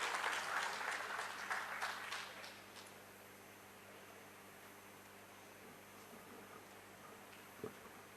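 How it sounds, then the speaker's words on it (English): Applause from a crowd at a surgical seminar hall inauguration fills the first couple of seconds and then fades into a quiet room hum, with one faint knock near the end. "please give him a big round of applause"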